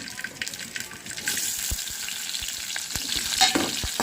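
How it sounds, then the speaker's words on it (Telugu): Thinly sliced onions frying in hot oil: steady close sizzle and crackle with occasional scraping knocks of a utensil against the pan, no voices. "ఆయిల్ అయితే హీట్ అయింది మాటల్లోనే సన్నగా కట్ చేసిన ఆనియన్ అండి"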